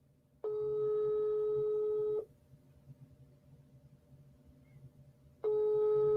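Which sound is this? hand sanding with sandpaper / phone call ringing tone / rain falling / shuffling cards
phone call ringing tone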